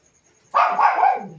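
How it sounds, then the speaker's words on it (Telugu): A dog gives a short, loud burst of barking, close by, after a moment of near silence. "ఏయ్ ఇటు మా కుక్క కొడుతుంది, పడుతుందా?"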